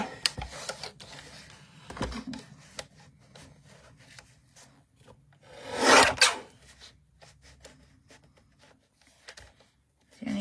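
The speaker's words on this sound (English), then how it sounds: "Let's grab my trimmer. And I'm just going to trim this down a little bit." A paper trimmer cutting down a card sentiment for a penguin Christmas card, with light scraping and rubbing sounds, small taps and a louder sliding swipe of the blade mid-way, close and quiet.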